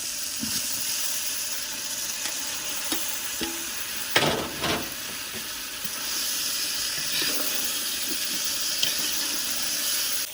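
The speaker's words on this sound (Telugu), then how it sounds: "కొద్దిగా మగ్గనిచ్చి నీళ్ళు పోసుకున్నాం." Water poured into a hot cooking pan of ivy gourds, a soft steady hiss and sizzle with a couple of louder splashing bursts partway through, close and unaccompanied by talk.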